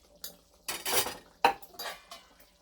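A lid goes onto a cooking pan of paneer curry on a gas stove just after ground roasted spices are sprinkled in. Soft, close metallic clatters and a sharp single clink stand out against near silence.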